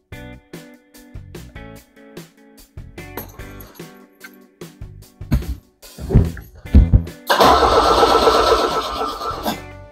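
Fuel-injected Fiat 124 Spider engine cranking without starting, with a lack of spark as the fault: rapid rhythmic starter whirring, close, rising to a loud rushing burst near the end.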